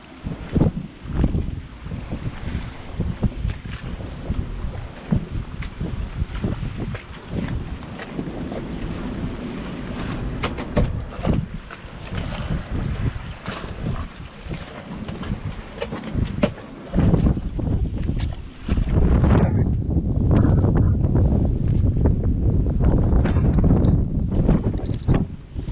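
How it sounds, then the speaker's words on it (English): Gusty wind buffets a sailboat at anchor in a southern Grenada bay, a continuous broadband rush with rising and falling gusts, loudest toward the end, along with water and hull noise and no voices. "gusty wind, but not very strong wind at all."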